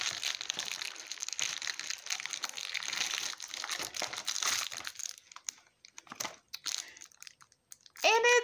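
Crinkly paper rustles and tears up close as a recycled pink paper mailing envelope is opened, with the scratchy handling giving way to sparser crackles and a short voice near the end.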